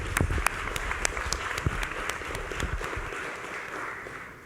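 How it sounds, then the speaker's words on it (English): Applause from a symposium audience, with sharp individual claps standing out near the microphone over a softer crowd of clapping that gradually tapers off. "I want to give you a round of applause"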